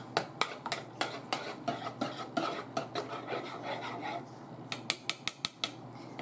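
Flour, sugar, baking soda, baking powder and salt for a homemade yellow cake mix get stirred together in a bowl, making steady rhythmic clinks and scraping taps, close and fairly quiet.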